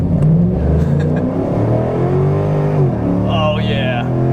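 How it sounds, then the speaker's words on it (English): A Mercedes E55 AMG with a five-speed automatic pulls at wide open throttle: a loud engine roar climbs steadily in pitch, dips at a gear change, then rises again, with a brief high whine near the end. "Let's do one more wide open throttle run though."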